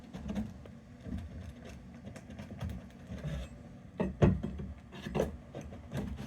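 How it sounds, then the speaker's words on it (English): Wooden trim being pried off a wall with two pry bars, giving low creaks, rubs and scraping wood strain with sharper cracks and pops near the end, close and moderately loud. "There we can see the trim starting to pull away from the wall."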